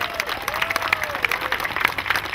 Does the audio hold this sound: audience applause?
yes